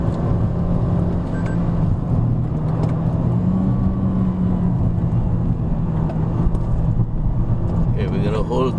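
A 2020 Toyota Corolla climbs a winding hill road in third gear, its engine a steady, loud drone with road rumble heard from inside the cabin.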